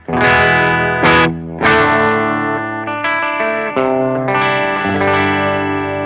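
Electric guitar runs through a Strymon Iridium amp simulator pedal set to the punch amp type, giving loud distorted chords and riffs with short pauses between phrases, close and without talk.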